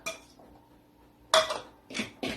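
A utensil mixes egg yolk into beaten egg whites in a bowl, with a soft scrape followed by a few clear clinks and taps against the bowl, close and quiet with no talking.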